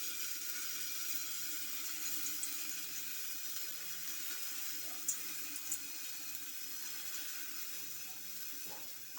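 Water is sprinkled around covered rice flour chitoi pitha, producing a faint, steady hiss with a few soft ticks throughout.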